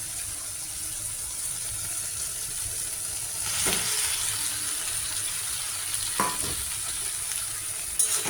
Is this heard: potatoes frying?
yes